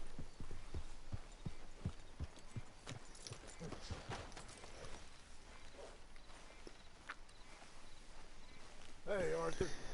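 Hooves clip-clop in a steady walking rhythm as a horse is led along in Red Dead Redemption 2, clear at first and then fading, with a game voice briefly at the end.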